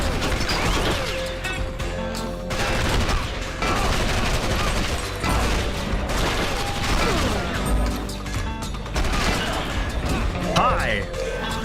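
Shotgun blasts and other gunfire from the video game Red Steel 2, loud bursts mixed with crashing impacts over constant game music and effects, with a voice talking over the action.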